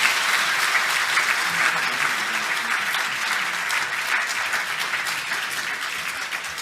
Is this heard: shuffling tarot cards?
no